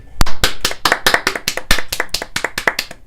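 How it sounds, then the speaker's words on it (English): Sharp, close hand claps from a class, about a dozen fast hits in a quick, slightly uneven series, loud and with no talking. "Everyone will start applauding."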